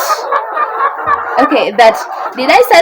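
Chickens clucking and murmuring close by inside a poultry house, with short bursty calls overlapping continuously through the clip.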